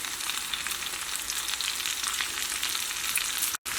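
Masala paste frying in a hot pan gives a steady, dense sizzle throughout, loud and close, cut off by a brief silent break near the end.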